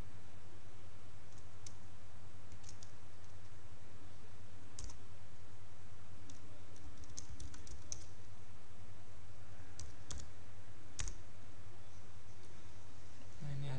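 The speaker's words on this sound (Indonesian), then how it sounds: "Caranya kita tinggal ketikkan saja sudo" Sudo command typed on a computer keyboard in Linux: sparse, quiet keystroke clicks scattered over roughly fourteen seconds, with a few louder taps standing out above a steady low hum.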